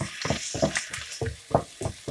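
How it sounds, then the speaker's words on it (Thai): Garlic and ginger stir-fry in a pan over medium heat, a soft sizzle punctuated by regular rhythmic scraping strokes of a utensil, close but fairly quiet. "พิมก็สิเอากระเทียมที่เฮามีนะจ๊ะลงมาผัดให้เหลืองนะจ๊ะ"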